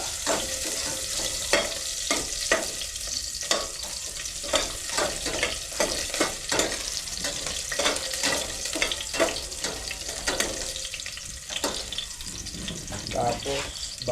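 Ginger sizzles hard in hot oil for chicken tinola, giving a dense, continuous crackle with frequent sharp spits and stirring scrapes, loud and close throughout.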